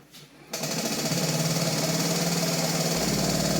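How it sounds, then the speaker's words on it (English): Ryobi 40V electric lawn mower with a faulty self-propel drive, giving a steady rough mechanical grinding and whirring that starts abruptly and runs on close up. "when I engage the self-propel feature, it sounds pretty rough. Something's grinding there"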